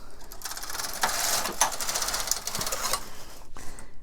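A knitting machine carriage slides across a row of chunky yarn while knitting socks, making a fast, dense mechanical clatter of needles that runs for several seconds and is close and fairly loud.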